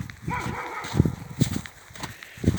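A dog barks a few times at a moderate distance, short sharp yaps spaced out over a faint background.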